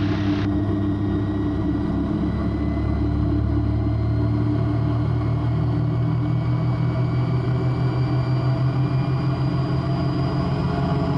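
The Raptor prototype aircraft engine runs steadily at close range with its propeller at flat pitch, a loud, continuous droning rumble with a constant hum and no talking.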